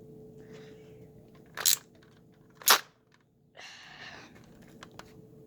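A nerf gun fires two sharp, loud snapping shots about a second apart against quiet background noise, followed by a brief mechanical rattle.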